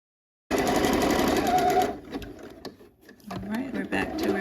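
A sewing machine zigzag-stitches a 5/8-inch seam, setting a bell sleeve into a mock-neck fall top: a loud, steady motor whir runs for about a second and a half, then gives way to quieter, intermittent mechanical clicks and rattles.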